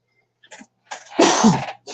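A single loud sneeze, sharp and close, preceded by a soft intake of breath.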